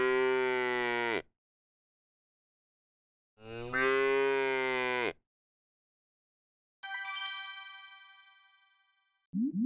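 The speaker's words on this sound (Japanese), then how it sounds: "牛。" A cow moos twice in long, loud, close calls, followed by a sustained ringing tone and a short final sound.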